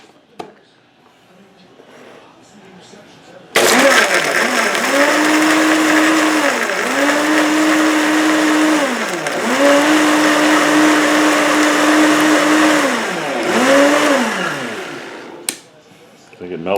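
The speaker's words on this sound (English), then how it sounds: "Yeah, that thing has no problem blending ice up." A Cosori Pro blender crushes ice for Chi Chi's mixed drinks. After a few quiet seconds, a loud, close motor roar kicks in. Its pitch sags and recovers repeatedly as ice chunks catch, then it cuts off abruptly near the end.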